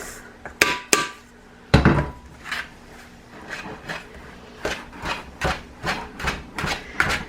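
Whisk scraping and tapping against a bowl while citric acid is mixed into bath bomb mixture, a few sharp knocks early on, then a steady run of soft rhythmic strokes, close and alone.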